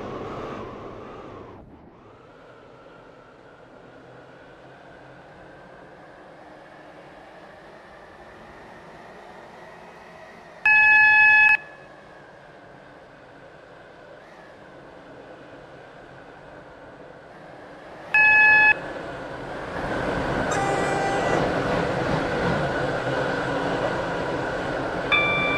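A Roblox Stepford County Railway Connect train runs steadily toward Benton, a continuous rumbling motor drone with a rising whine, broken by two short loud chime tones before the noise swells near the end.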